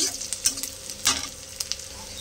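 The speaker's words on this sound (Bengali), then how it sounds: "পেঁয়াজটা ভালো করে ভেজে নেবো একটু" A soft sizzle of onions frying in a pan with a few scraping stirs and light clicks, close up and quiet, no voices.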